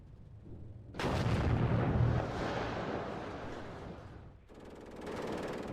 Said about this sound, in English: Hopefully that artillery hits actually.